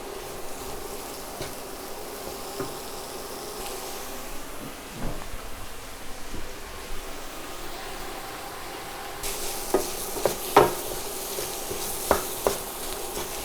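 Mushrooms frying in a pan, with a low sizzle beneath intermittent scrapes and clatters as they are tossed and stirred, the tossing growing busier and louder toward the end.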